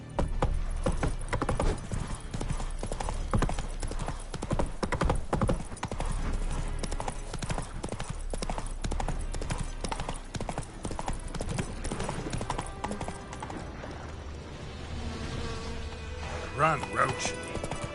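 Roach the horse gallops in The Witcher 3 on PS5: rapid, rhythmic hoofbeats pound steadily and close for most of the stretch, with insect-like buzzing in the ambience and brief talking toward the end.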